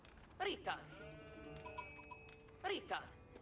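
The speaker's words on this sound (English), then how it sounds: "I've only found one sheep on this entire route here." Sheep bleat twice near the start and twice near the end of a real-time strategy match, with a lighter game chime in between; each bleat is short and clear, and the player talks over the clip.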